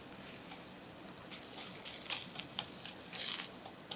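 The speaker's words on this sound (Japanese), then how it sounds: "玉ねぎから、早めに水分が出てまいりますので、早く炒められます。" Sapporo Ki onions, salted, sautéing in a pan over medium heat, giving a faint, steady sizzle with a few soft crackles and pops.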